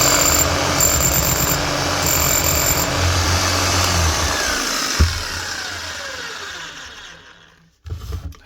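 A Bosch GBH 7-45 DE rotary hammer, an older restored unit, runs steadily with a loud, close motor whine and rapid hammering that fades out near the end before a brief restart.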